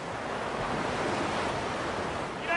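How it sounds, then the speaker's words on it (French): Artificial surf breaking in a wave pool set in the middle of the Australian desert, a steady broadband wash of churning water with a constant roar throughout, no voices. "Pas besoin d'attendre les vagues, elles sont toujours au rendez-vous"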